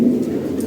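Lahori Sherazi pigeons make a short burst of low, throaty cooing up close, loud and brief with no talking over it.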